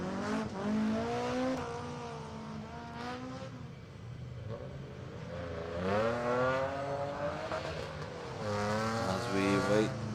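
Subaru Impreza rally car on a special stage of the Harlech Stages rally, engine revving and changing gear through repeated rising pulls as it passes nearby, loud and continuous with tire noise.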